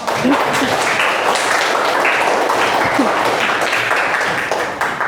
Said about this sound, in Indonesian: tepuk tangan dulu buat semua kelompok